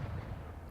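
A game ship about to set sail in Honkai: Star Rail gives off a deep, rumbling low boom, a short heavy blast-like roar that fills the low end briefly and alone.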